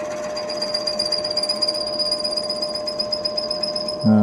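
A power drill boring a hole into old, oily monkey puzzle wood, a steady whining drone with a high tonal ring, close and continuous, ending in a brief louder thump.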